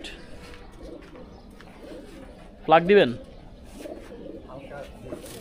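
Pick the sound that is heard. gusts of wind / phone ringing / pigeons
pigeons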